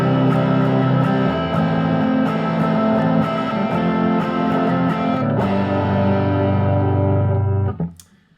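An electric guitar with both pickups selected plays through a crunchy amp model, giving a sustained distorted chord ringing for several seconds, a brief change of strumming midway, then cutting off abruptly near the end; no talking.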